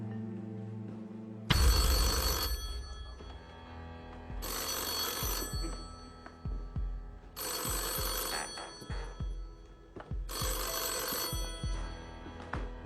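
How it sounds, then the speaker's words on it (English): Telephone bell on the Deal or No Deal game show, the banker's call, ringing in four long loud bursts separated by short gaps, over faint studio background noise. "This could be one of the most important phone calls that you've had."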